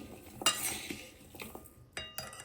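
A spoon stirs a ginger pickle mixture with fennel and cumin in a metal pan, making close, irregular clinks and scrapes. A few sharper knocks land against the pan, and no one talks.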